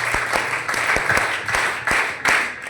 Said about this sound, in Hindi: आपकी तालियों की गड़गड़ाहट ने आज हमारे, जो हम बचपन में जो पढ़ाई करते थे, उन दिनों की याद दिला दी